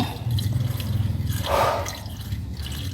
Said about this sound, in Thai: เติมน้ำยาหล่อเย็นนะไม่ต้องผสมนะครับ เติมลงไป